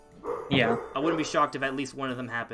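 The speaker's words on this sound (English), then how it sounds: "That's my dog" A dog barks loudly and repeatedly close by indoors, a run of yelping barks and whines that overlaps with someone talking during a podcast recording.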